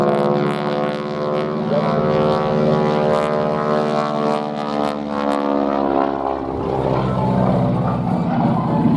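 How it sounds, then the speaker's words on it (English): A loud, steady droning propeller aircraft with a radial piston engine, about 81 years old, at an airshow; its buzzing harmonic roar, with propeller tips going supersonic, is sustained throughout with a slight shift in pitch near the end. "the sound of the propeller tips going supersonic"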